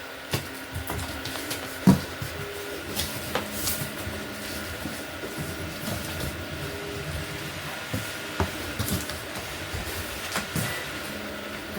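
Low mechanical whirring and hum from 3D printers running steadily, with faint stepper-motor tones and occasional clicks and knocks throughout.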